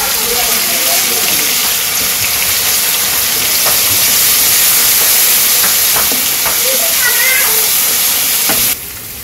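Crushed garlic hits hot oil in a village kitchen pan where green chillies were just fried, producing a loud, dense, continuous hiss with faint clicks of stirring, cutting off abruptly near the end.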